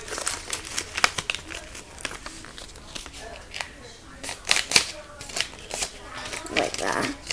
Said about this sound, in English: Then we're going to take this piece and fold it up.